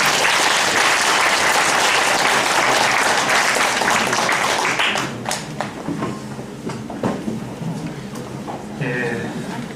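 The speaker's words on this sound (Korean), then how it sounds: "힘찬 박수 부탁드립니다" Loud, dense applause from a church lecture audience fills the first half, then thins into scattered claps that fade toward the end.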